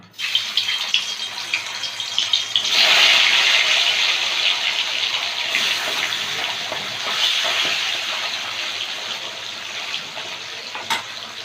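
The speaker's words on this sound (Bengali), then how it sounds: "কড়াইতে তেল গরম হয়ে গেছে" Fish frying in hot oil in a wok, a steady broadband sizzle with a few louder crackling bursts and spits, continuous and close throughout with no voices.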